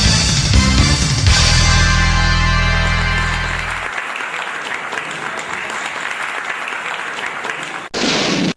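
Dense audience applause at a Pakistani singing competition stage show, loud and sustained over music that drops out partway, with clapping continuing alone before a brief cut.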